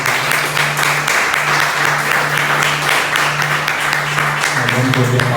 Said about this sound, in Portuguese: Eu queria que você aplaudisse o nome dele bem forte,